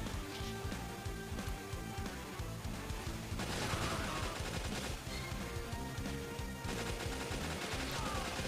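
Dense, continuous gunfire from the Metal Slug Awakening video game, rapid overlapping shots and bursts layered over game music, growing busier and louder in the second half.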